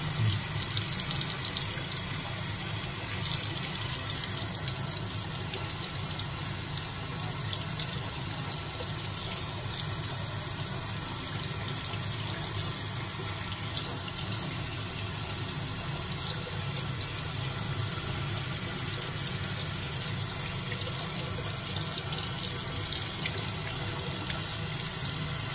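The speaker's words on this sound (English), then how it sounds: "Shower. He's taking shower." Steady running shower water splashes continuously onto small pet turtles being bathed, a dense broadband hiss that stays even and close for the whole stretch, with no voices.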